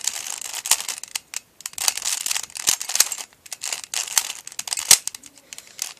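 A Rubik's cube being scrambled gives rapid, irregular plastic clicks and clacks close up, in quick bursts with short pauses, without talk.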